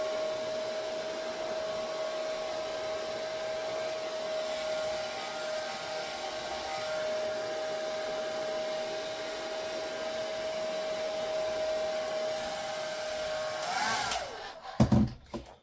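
A heat gun or hair dryer set to medium and hot blows a steady, loud whir of air onto a clear vinyl bag, with a constant tone. It cuts off near the end with a few brief knocks.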